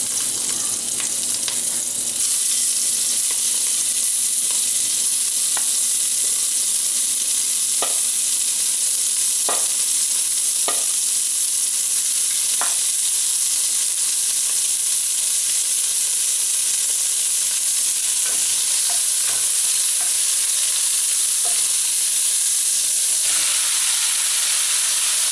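Beef stew meat sears in hot canola oil, giving a steady, loud broadband sizzle that runs unbroken for the whole stretch, with occasional sharp pops and spatters and no talking.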